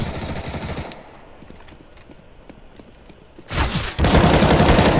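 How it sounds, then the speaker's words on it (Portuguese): Bursts of rapid gunfire in CS:GO on Dust 2 crackle loudly at the start, then drop to quieter scattered shots before a heavy sustained barrage erupts again near the end. "Os caras dando tiro na porta"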